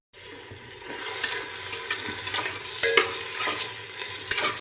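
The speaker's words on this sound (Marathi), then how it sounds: "हे मोठे चार कांदे असे उभे कापून घेतलेले आहेत तर आता हे तेलामधून तळून घेणार आहे मी" Four large, lengthwise-sliced onions fry in oil inside a pressure cooker, sizzling steadily up close while a spoon scrapes and clatters in repeated stirring strokes.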